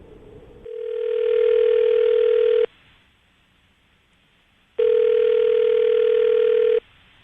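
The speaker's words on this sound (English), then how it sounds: "we're going to call her right now and see if we can get her on the phone" Telephone call being placed: a steady tone, then two long, loud electronic ringing tones separated by a quiet gap, clear and alone.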